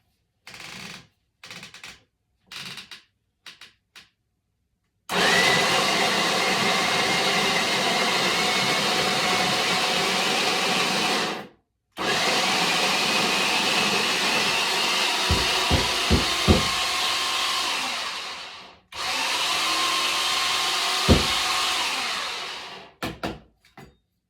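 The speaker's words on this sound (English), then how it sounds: "Let's grind those beans." An electric coffee grinder grinds beans for French press coffee, first in a few short pulses, then in three long, loud, whirring runs separated by brief pauses, with rattling of beans.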